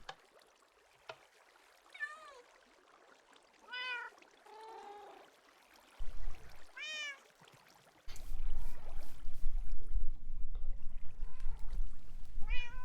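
Several distinct cat meows in Minecraft Java, spaced over the first half and rising and falling, followed by a steady pour of flowing water filling the second half.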